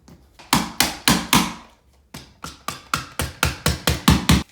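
Plastic wall anchors are tapped with a hammer into drilled holes while a framed shower door's wall jamb is installed, in close, loud sharp strikes, a burst of four, a pause, then a steady run of about ten evenly spaced taps.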